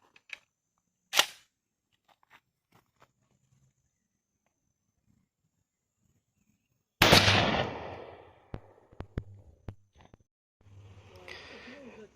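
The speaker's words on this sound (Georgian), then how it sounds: "ესეც მსხვილი საფანტი პირველი სროლა" A Stoeger M3000 Beccacia shotgun firing heavy buckshot through a Kixis choke: a sharp distant crack early, then a loud close blast with ringing decay, followed by clicks and brief talk.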